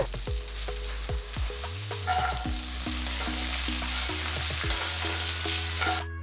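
Steady sizzling of peanuts frying in a pan with chilli, asafoetida and curry leaves, with repeated scraping and stirring strokes throughout, close and fairly loud.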